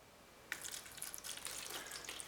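Water runs into a plastic seed tray for bottom watering, starting suddenly as a soft, close trickle and splash that continues steadily.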